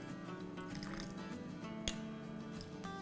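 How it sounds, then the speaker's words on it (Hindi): Lemon juice is poured from a tablespoon onto sugar, making a faint, soft drip and wet squish with one brief splash, over quiet background music. "उसमें हम डालेंगे 1 टेबलस्पून भर के लेमन जूस"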